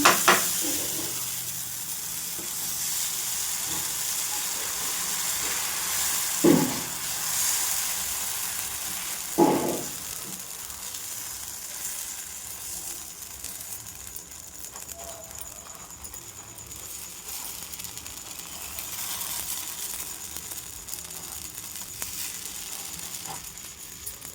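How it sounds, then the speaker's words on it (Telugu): Sago dosa batter spread on a hot dosa pan, a steady bright hiss of sizzling that fills the whole stretch, with a couple of brief thumps and scrapes early on. "ఇప్పుడు నేను గ్రైండ్ చేసి పెట్టుకున్న పిండిని దోస పెనం మీద వేస్తున్నాను."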